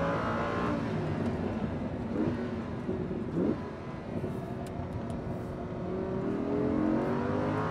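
A Lamborghini Huracan V10 engine revs and roars continuously, rising and falling in pitch, fairly distant and steady without speech.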